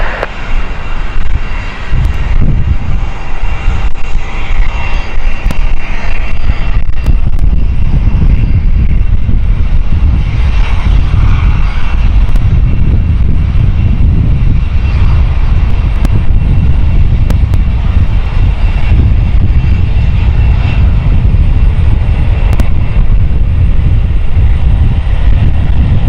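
An aircraft on runway 27 at London City Airport sends out a loud, sustained engine roar that swells and holds as it powers up on the runway, heard from fairly close with no voices.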